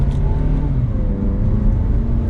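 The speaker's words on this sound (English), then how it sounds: "Go ahead and give it just a little bit of gas." A 2020 Mazda 3 compact sedan accelerating in sport mode, heard from inside as a loud, steady engine drone with a smoothly rising pitch and road rumble underneath.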